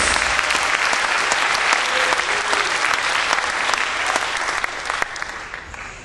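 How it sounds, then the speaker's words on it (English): A church congregation in the Philippines claps hands together in praise, producing loud, sustained, crowd-wide applause that holds steady before easing off slightly at the end. "Let's clap our hands to the Lord for them."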